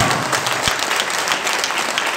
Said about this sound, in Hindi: इस पहचान पत्र के लिए एक बार दिल खोल के तालियां बजा दो